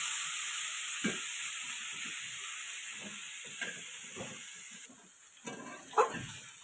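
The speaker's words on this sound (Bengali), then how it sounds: "এবারে শাকটাকে আমি 5 মিনিট মতন ভাজবো।" Boiled radish greens fry in a pan with a soft, steady sizzle and hiss, broken by occasional spatula scrapes and knocks as they are stirred.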